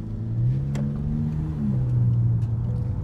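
A Kia Cerato 2.0 fitted with a universal aftermarket exhaust rumbles nearby with a deep, steady note that swells slightly as the engine is revved, heard alone without talk.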